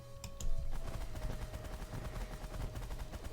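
Spreading bullet fire in The Last Federation space strategy game, a faint, steady stream of rapid small shots under a low electronic hum, with a couple of brighter blips at the start.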